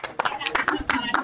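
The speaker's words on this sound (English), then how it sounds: "Applause as sheet B comes in." Applause breaks out as sheet B comes in at a curling draw: a short, moderate patter of hand claps with voices talking over it.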